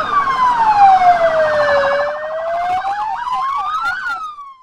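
A donated Cruz Roja ambulance in Santa Rosa de Lima, El Salvador, wails with a loud, near siren, a long sweeping tone shifting into rapid warbling yelps.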